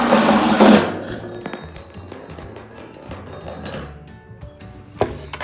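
A handheld power drill fitted with an attachment runs at high speed, giving a loud burst of motor whine at the start that settles into a steadier, softer whir with faint clatter.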